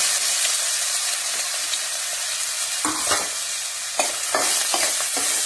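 Garlic, onion and curry leaves fry in a pan with a continuous sizzling hiss, broken by a few sharp scraping stirs of a spatula toward the end; no voices.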